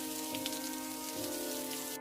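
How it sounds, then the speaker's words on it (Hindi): Rain falling, a faint, soft, steady patter under a quiet tonal hum, continuous for the whole short stretch with no voices. "बारिश रुक रुक कर होती रही"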